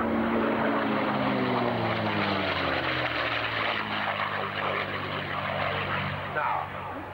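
A P-51 Mustang propeller fighter passes at an RAF Cosford airshow, its piston engine giving a loud, throaty drone with falling pitch as it sweeps by and slowly fades.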